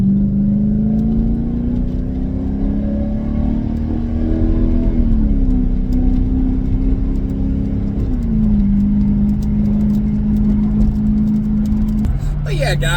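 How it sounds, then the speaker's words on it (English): A Mercedes CLK 500 engine revs with a deep, loud exhaust rumble, pitch rising and shifting between steady tones while a person talks over it. "that's the exhaust."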